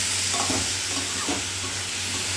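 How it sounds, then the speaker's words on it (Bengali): Ridge gourd frying in a pan while being stirred, a steady close sizzle with a few soft scraping strokes of the spoon and a low hum running underneath. "নাড়াচাড়া করতে করতে কতটুকু হয়ে গেছে"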